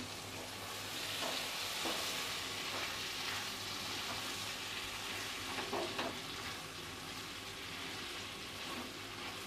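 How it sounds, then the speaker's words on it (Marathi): Washed dried fish (suke sode) is sautéed in a homemade masala, with a continuous soft sizzle broken by occasional scraping stirs of a spoon in the pan. "यामध्ये धुतलेले सोडे आहेत ना, ते घालूया. आता परतून घेऊया."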